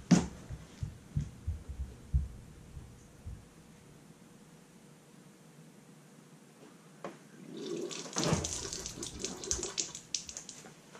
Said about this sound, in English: When I pour this cup of water down, you guys should see it drain out down here somewhere.